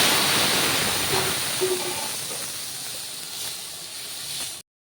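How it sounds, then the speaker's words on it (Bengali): Steady broadband sizzling hiss of moong-style matar dal poured into a hot pan, a continuous close frying roar that holds evenly for several seconds before cutting off abruptly, with no talking. "ডালটা ঢেলে দিয়েছি"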